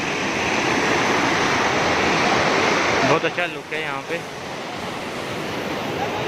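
Water rushes steadily through a canal bridge gate in a broad, continuous roar, loud and close throughout, while someone briefly speaks over it partway through.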